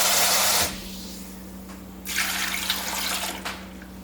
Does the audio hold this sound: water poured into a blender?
yes